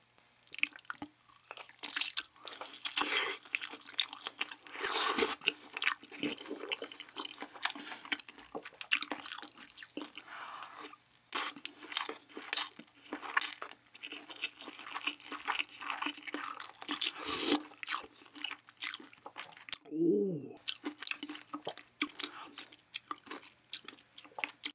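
Close, quiet mouth sounds of someone eating egg in a Korean home-food mukbang with spicy steamed kimchi, rice and pork belly: soft wet chewing and squishy bites in an irregular rhythm, with brief murmurs between.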